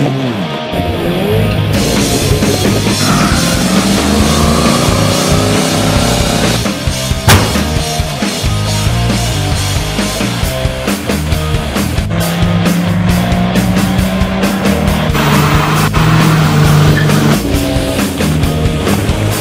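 Engine of a 1950 Chevrolet pickup truck running steadily and fairly loud throughout, a continuous low rumble with no talk over it.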